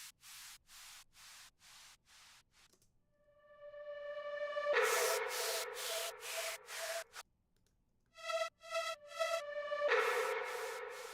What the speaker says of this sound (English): this is a reverb riser of another sound.